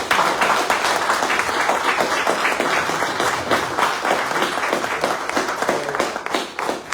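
Audience applause at an academic seminar, sustained dense clapping from a room full of people throughout, fairly close and even in loudness.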